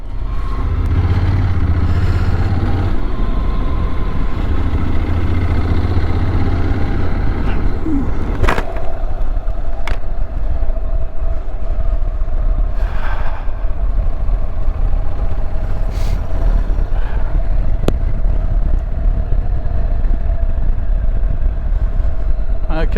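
A motorcycle rides off-road in Catalonia: a steady engine drone under loud, constant wind rush, with a few sharp clattering knocks along the way.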